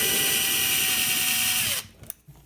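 Loud, steady whine of a power driver backing out small 2.5mm screws from a 1/5-scale RC car beadlock wheel, running continuously before cutting off, followed by a couple of faint clicks.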